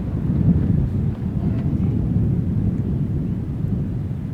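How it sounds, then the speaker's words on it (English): Strong wind on a golf course buffets the microphone at an amateur championship, a loud, continuous low rumble that stays steady throughout with no talking. "I've got wind noise reduction on this microphone right now, and it's still coming through"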